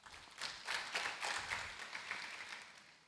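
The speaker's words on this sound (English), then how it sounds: "Please give her a round of applause." Applause from a workshop audience: a dense, steady round of clapping from a small crowd that holds for about three seconds at moderate loudness, with no talking over it.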